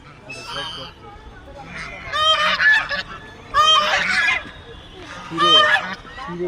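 Ducks at a water temple give loud nasal honking calls in three or four close bursts, with quiet voices murmuring underneath between the calls.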